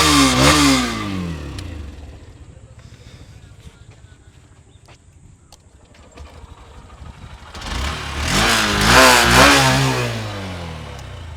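A 125cc motorcycle, either a Honda SP 125 or Hero Xtreme 125R from 2024, is started and revved hard, the engine roaring up near the mic, settling to a quieter idle, then revving loudly again.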